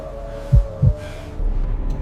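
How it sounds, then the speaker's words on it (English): Two deep, heavy heartbeat thumps in a lub-dub pair, close and isolated, set over a quiet low hum and rumble as a sound effect. "The air is so quiet you can hear your own heartbeat."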